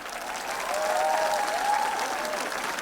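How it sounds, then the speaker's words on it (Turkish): Audience applause at a Crimean Tatar book fair concert, a sustained, even wash of clapping from a crowd with a faint voice or tone heard in the middle. "Uygun olsa ayrı alkışlar olsun."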